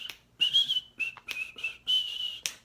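A person whistles a short tune in a run of clear, steady notes with brief breaks, close and fairly loud, with no talking.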